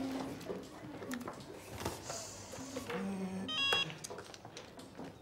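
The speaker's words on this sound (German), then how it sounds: "Der Georg hat sein Handy vergessen und jetzt läutet das Ding unentwegt" A mobile phone rings insistently in a domestic TV-drama scene, its electronic tones repeating through the clip beneath a busy background with occasional voices.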